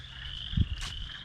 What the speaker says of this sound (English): Man, these frogs are real loud today.